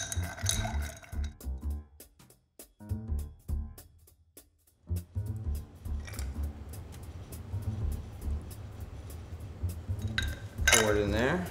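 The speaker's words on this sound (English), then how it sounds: "we'll go ahead and stir." Ice is stirred in a mixing glass for a Jim Beam cocktail, giving a string of close, bright clinks and rattles that come in short bursts with brief pauses between them.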